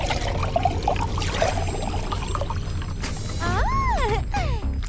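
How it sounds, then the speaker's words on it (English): Water poured into a clear jar for a glitter craft, a steady splashing trickle running under background music with rising musical tones near the end. "Fill it with water and glitter."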